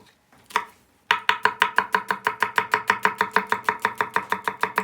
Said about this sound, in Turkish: Tavuklarımız yağın içinde beklerken biz diğer malzemeyi doğrayacağız.